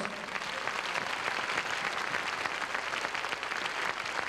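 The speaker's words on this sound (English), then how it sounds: "Hong Kong Chamber Orchestra, please, big applause." Steady, dense applause from a large audience for the Hong Kong Chamber Orchestra, sustained without pause, with no voices standing out.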